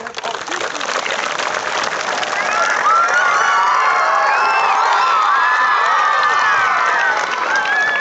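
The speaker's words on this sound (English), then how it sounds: "The big clap will go to the teachers from nursery to class 10 teachers." A school crowd of students and children claps, cheers and whoops for teachers at a results celebration, loud and continuous with shrill shouts and whistles rising over the steady clapping.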